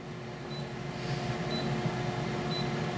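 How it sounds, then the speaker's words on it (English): Three short, high electronic beeps about a second apart from a Chefree air fryer grill finishing cooking fish, over a steady appliance hum and fan whir. "You get a little beep, look."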